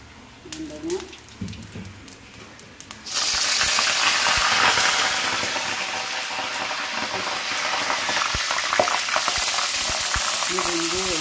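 Plenty of fresh oil sizzles and crackles loudly in a pan as stir-fried chili fish gets cooking, a sudden burst of steady frying that follows a quieter opening with a few clinks, continuing densely to the end.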